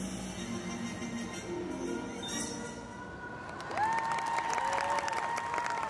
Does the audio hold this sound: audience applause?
yes